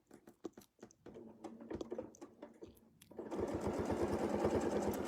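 A sewing machine stitches a continuous quilting motif, starting with slow, uneven single stitches and then settling into a steady, fast mechanical whir, close and fairly quiet.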